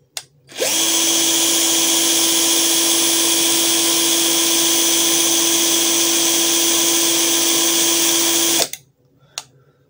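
A ZPER 21v cordless impact drill runs at full speed for about eight seconds, a loud steady high-pitched whine that starts and stops abruptly, close to the listener, with no talking.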